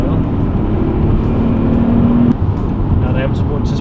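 A 2001 BMW E39 535i Sport manual with the M62 twin-Vanos V8 pulls hard under acceleration, its steady engine drone climbing in pitch over road rumble before easing off abruptly, followed by continuing cabin and tyre noise.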